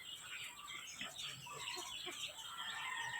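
Two-week-old chicks peep continuously alongside older chickens clucking at a backyard poultry pen, a busy, moderately quiet chorus of high chirps with occasional lower clucks throughout.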